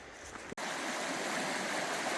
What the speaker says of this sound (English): across this raging creek